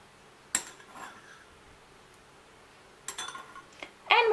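Spoon scraping butter from a dish while making coconut cake batter: a few sharp clinks and scrapes of metal on the dish, separated by quiet pauses.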